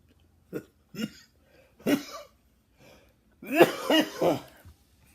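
A man coughs repeatedly in short, separate bursts, then lets out a longer run of rough, hacking coughs near the end, close by.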